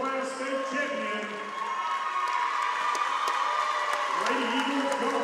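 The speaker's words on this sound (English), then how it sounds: "give a round of applause for your 2023 TWSAA Small Class State Champion" A gym crowd at a basketball game ceremony applauds and cheers for a state champion girls' golf team, steady and full, with shouting voices mixed into the clapping throughout.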